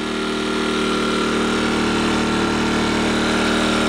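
An Earthquake IG800W 800-watt inverter generator runs steadily from about two or three feet away, a loud, even mechanical drone with a constant pitch and no voices.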